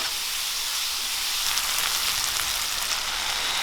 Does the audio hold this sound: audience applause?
no